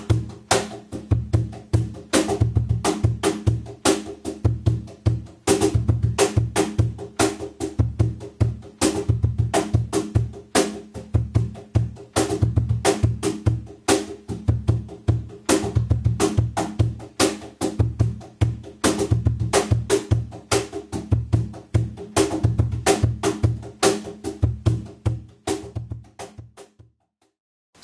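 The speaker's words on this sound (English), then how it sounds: "The last stroke of our group of six triplets, I'm going to change to a snare." A cajon groove mixing deep bass tones with sharp snare slaps on triplet strokes, played continuously and briskly for nearly half a minute, close and loud with no voices.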